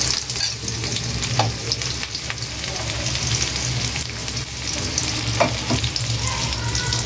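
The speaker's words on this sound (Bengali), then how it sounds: "তো পেঁয়াজ আগে ভেজে নিবা?" Onions frying in oil in a pan for tilapia do-peyaza curry, a constant close sizzle with occasional stirring clicks and scrapes, heard alone without talking.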